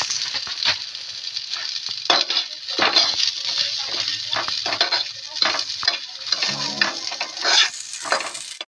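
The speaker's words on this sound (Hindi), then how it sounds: "अभी हम इसके अंदर कमरकस डालेंगे। ये देखो, आपको हर चीज को अच्छे से वो भी घी के अंदर फ्राई करना है।" Kamarkas frying in ghee while being stirred, a close sizzling hiss broken by repeated rhythmic scraping of a spoon against the pan, with no talking.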